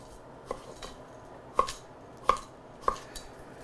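A knife chops food into cubes on a cutting board: four crisp, evenly spaced thuds, the last three louder, alone with no talk.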